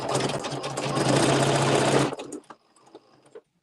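A sewing machine back stitching a luxe cuddle fleece Fair Isle wrap, a close, fast, even whirring run for about two seconds, then stopping with a few faint clicks and rustles.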